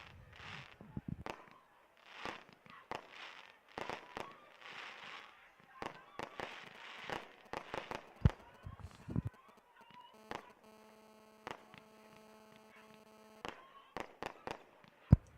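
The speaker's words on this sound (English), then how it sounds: "And there we go with the fireworks in the sky." Fireworks burst in the night sky over Le Mans at a karting championship celebration, a string of sharp pops and crackling bangs in irregular clusters, some louder and closer, with voices talking between them.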